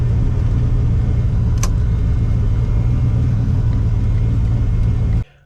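Race car on a drag strip during an eighth-mile pass, heard as a loud, steady, close engine roar with heavy low rumble throughout, then cutting off sharply near the end.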